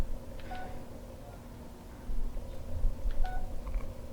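Keypad tones from a Samsung Comment 2 Cricket phone sound as two short electronic beep clusters about three seconds apart, each followed by a steady tone, over a low background hum.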